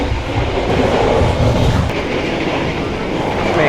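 Loud, steady rumble and rattle of a passenger carriage rolling on rails on the Yogyakarta to Jakarta train, heard from inside as a continuous dense roar with faint clatter and no talking.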